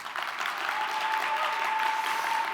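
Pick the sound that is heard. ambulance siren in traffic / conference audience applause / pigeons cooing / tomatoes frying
conference audience applause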